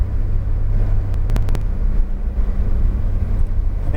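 A Porsche engine accelerating uphill on a race track, a loud, steady low rumble throughout with a few faint ticking clicks in the middle.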